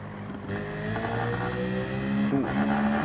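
Simulated Citroen race car engine in Gran Turismo 7 on the Monza circuit, a steady droning roar that holds level with a brief dip and shift in pitch near the end, loud and continuous with no talk.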